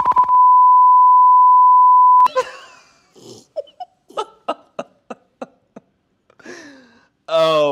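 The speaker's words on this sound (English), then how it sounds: "Just put a sensor beep on it." A loud, steady censor beep holds one pure tone for about two seconds, then cuts off abruptly; short bursts of voices and laughter follow.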